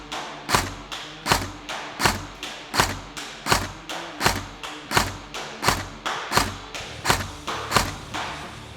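Sharp semi-automatic shots from a TM P90 high-cycle airsoft gun on a 7.4 volt LiPo battery, about sixteen evenly spaced snappy reports in a steady rhythm, close and alone.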